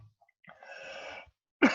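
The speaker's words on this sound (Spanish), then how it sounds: "perdón, ahí me agarró la tos" A single soft, breathy cough, followed moments later by a sharper burst, in an otherwise quiet room.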